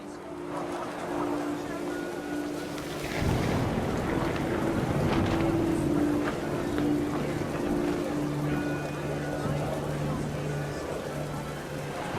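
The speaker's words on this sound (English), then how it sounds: "The wind picked up and panicked geese appeared and quickly went." Gusting wind rises in the What Remains of Edith Finch game, a steady rushing roar with a louder swell partway through, layered over low sustained musical tones; no one speaks.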